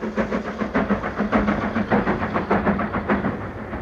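A steam locomotive hauls a train west of Salisbury, its loud rhythmic chuffing beats repeating about twice a second over a steady rumbling low drone.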